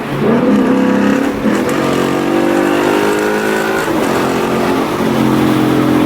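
A 2016 Ford Mustang GT with a Barton Hybrid 3 shifter pulling hard through quick, smooth gear changes, loud engine pitch climbing and dropping at each shift, heard from inside, no talking.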